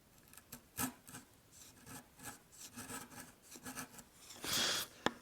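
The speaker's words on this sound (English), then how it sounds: "I'm going to set my chisel right into that knife line and chisel ever so slightly upward from there." A hand chisel pares wood inside a hinge mortise, giving faint, close scraping and rasping strokes in an irregular rhythm, with a brighter, sharper scrape near the end.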